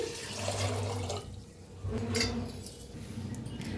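Water poured into a pressure cooker of washed chickpeas for chole: a steady, fairly quiet splashing pour with a short dip in the middle, heard alone.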